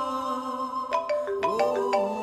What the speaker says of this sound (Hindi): रहने दो, सीमल का ही फोन